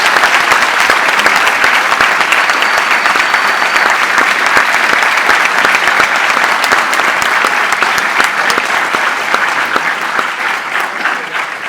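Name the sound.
audience applause welcoming lecturer Norman Finkelstein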